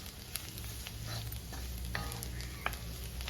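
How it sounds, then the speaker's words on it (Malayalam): Tomato curry masala with onions sautés in a pan for a Kerala-style tomato curry, a soft continuous hiss of frying with light scraping and stirring clicks, quiet and without voices. "അതുവരെ നമ്മൾ ഇങ്ങനെ വഴറ്റി കൊടുത്തുകൊണ്ടേയിരിക്കുക"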